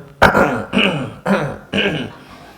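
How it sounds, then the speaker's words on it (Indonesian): Several audience members at an early-morning Islamic lecture clear their throats one after another, four short rough bursts separated by brief pauses. "Udah banyak yang dehem itu."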